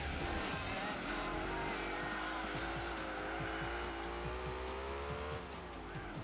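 A supercar in Gran Turismo 4 holds a loud, steady engine drone while its tires squeal through a long corner, the pitch shifting slightly near the end, with a voice faintly audible under the racing noise.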